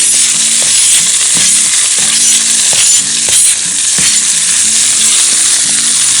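Shallots, celery and carrots sizzle in a Dutch oven at a mountain campsite, a loud steady frying hiss with repeated clinks and scrapes of a utensil stirring against the pot, no voices.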